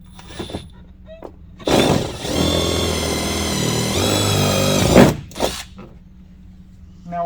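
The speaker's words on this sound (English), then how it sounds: "we're just going to match drill the inner hole right here" A power drill bores a match hole through a Rokblokz mud flap into the fender of a 2010–2018 Ram 2500, running in one loud close burst of about three seconds with brief handling noises before and after.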